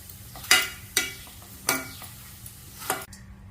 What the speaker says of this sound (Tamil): இந்த வாழைப்புக்கு தேவையான உப்பை போட்டுக்கிறேன் போட்டு நல்லா வதக்கிடு